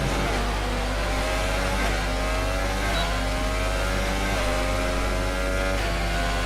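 A car engine in the F1 2018 video game, racing at the Canadian Grand Prix, drones loud and constant at high revs with slight shifts in pitch and no break.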